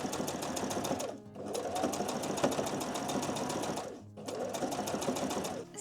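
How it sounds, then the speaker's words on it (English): A sewing machine stitches steadily around a fabric party crown, its fast even whirring loud and close, pausing briefly twice before running on. "now I'm just going to sew a stitch all the way around"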